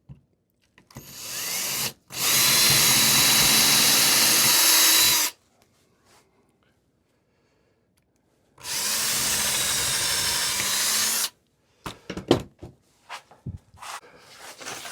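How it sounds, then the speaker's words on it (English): A power drill pre-drills pilot holes in wood for a child-size picnic table, two sustained loud whirring runs of about three and two and a half seconds each, followed by brief clicks and taps of handling. "I'm going to pre-drill these"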